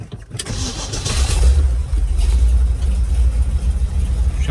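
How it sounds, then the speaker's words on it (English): A small-block Chevy fitted with a one-barrel carburetor cold-starts loudly up close: a short crank catches within half a second, then the engine settles into a rough, steady, rumbling idle. "let's do a cold start with this 1-barrel carb"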